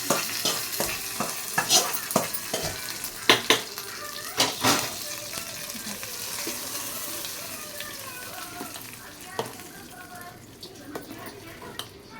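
Mustard seeds, urad dal and curry leaves crackle and sizzle in hot tempering oil, with steady frying hiss, spoon stirring and clinks of a metal pan, loudest early then easing.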